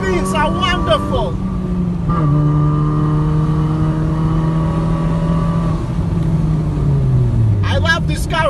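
A turbocharged, propane-fuelled Chevrolet Optra (also sold as the Holden Viva and Suzuki Reno/Forenza) holds a steady, loud high-rev drone from close by, then its pitch falls as the engine winds down. A person talks briefly at the start and end.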